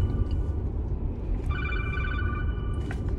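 A telephone rings with a steady electronic tone against a loud, rumbling background, the ring carrying clearly through the middle of the moment.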